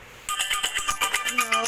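A phone rings in the Superhero Bike Stunts mobile game, a steady pulsing electronic ringtone repeating in quick bursts at moderate volume.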